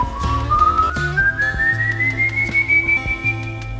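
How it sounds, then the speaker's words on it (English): A single whistler gives the eerie notes of El Silbón, a cursed wandering figure, as one clear tone slowly rising in pitch over a low rhythmic musical backing. "He whistles these musical notes."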